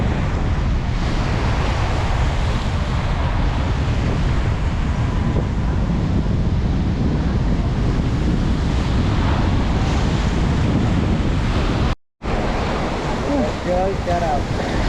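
Strong ocean waves crash continuously at the shore under heavy wind buffeting the microphone, loud and close, with a brief dropout near the end.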